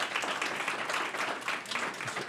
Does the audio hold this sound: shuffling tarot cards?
no